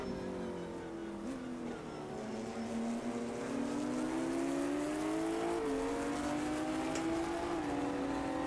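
A Ginetta race car engine in the Automobilista 2 racing game at Imola, a steady rising and falling motor whine with gear shifts, fairly faint under a busy mix of other race cars.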